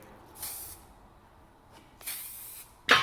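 A spray can coats a car part in a garage workshop with three sharp hissing bursts, two medium-length blasts and then a short, louder close one, separated by quiet pauses.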